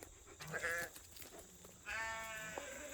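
Sheep bleat in an open farm paddock, two drawn-out wavering calls about a second apart, the second louder and longer, with faint background noise between them.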